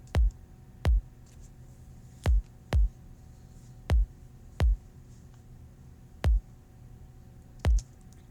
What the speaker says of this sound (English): I only have I think one pattern for the kick.